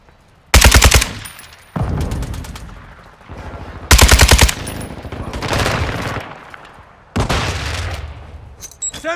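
Bursts of AK-47 (Kastov 762) automatic fire in Call of Duty Modern Warfare 2 team deathmatch, loud and close, coming in several sharp strings with short pauses and softer background battle noise between them.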